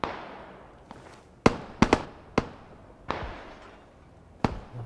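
Gunshots in a squad-based shooter video game, a series of sharp sudden cracks at irregular intervals, some in quick pairs, each with a short fading tail over quiet background noise.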